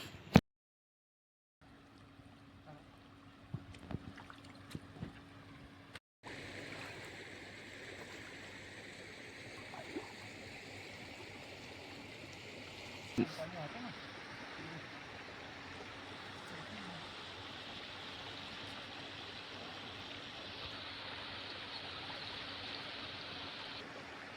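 A village river flows steadily nearby, a broad continuous rushing and babbling wash that stays even and fairly soft throughout, after a brief quiet start with a few handling knocks.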